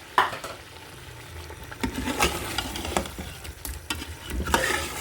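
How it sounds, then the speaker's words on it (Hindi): Goat trotters (paaye) sauté in a spiced masala in a pan, giving a loud, uneven sizzle broken by repeated scraping stirs and bursts of spitting oil. "साथ ही हम इसमें पाए डाल के अच्छी तरह से भून लेते हैं।"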